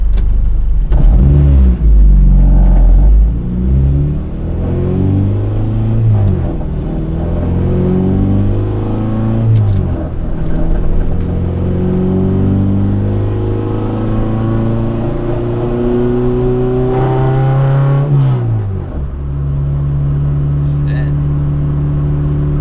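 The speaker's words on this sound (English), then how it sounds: "I'm barely even giving it any throttle and it just feels so weird." An Acura RSX fitted with a return-style fuel system idles low, then revs repeatedly in rising and falling sweeps, the engine loud and close, with a person speaking over it.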